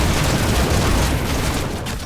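Heroes of the Storm gameplay with Sylvanas pushing a lane: a loud, dense barrage of booming explosions and crackling blasts runs almost continuously, with no talking.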